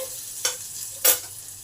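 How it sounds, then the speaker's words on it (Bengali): Chickpeas frying with black mustard seeds in a pan, a faint low sizzle broken by two short scraping stirs of a utensil against the pan. "এইগুলোকে একটু ভালো করে ভেজে নিলাম"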